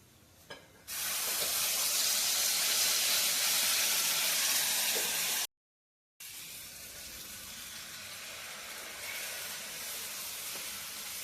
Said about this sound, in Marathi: तेल तापलंय पण वाटण जे केलंय ते त्यात टाकू